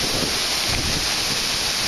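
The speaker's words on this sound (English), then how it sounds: "will admit this waterfall looks pretty tall" Tall waterfall heard close up as a steady, loud roar of rushing, crashing water, broadband and unbroken with no voices.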